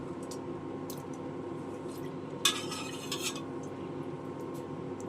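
A short burst of rice pouring and splashing into a pot of water, with faint clinks of cookware against a steady low kitchen hum.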